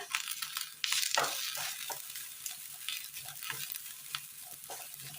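Finely chopped shallot with grated coconut sautéing in a pan, a bright continuous sizzle with a few stirring scrapes, close and fairly quiet, no talking.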